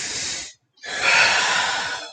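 Deep breaths taken during an exercise set, a long forceful exhale, a short pause of silence, then another strong rushing breath, close to the microphone and loud.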